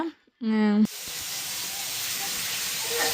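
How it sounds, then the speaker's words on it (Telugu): Cauliflower drops into a hot pan and breaks into a loud, steady frying hiss that carries on to the end, right after a brief spoken voice at the start. "ఇంకా ఇప్పుడైతే క్యాలీఫ్లవర్ ఫ్రై చేస్తున్నాను"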